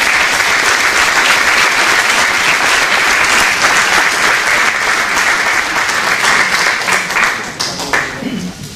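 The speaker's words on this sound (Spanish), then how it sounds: "le damos un aplauso de bienvenida al pastor Iván Alegría" A church congregation at a missionary conference gives a long, dense round of applause to welcome a pastor, sustained and loud for several seconds before thinning out and fading at the end.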